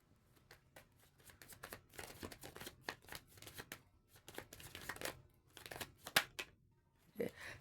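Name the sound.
tarot cards being shuffled to draw a card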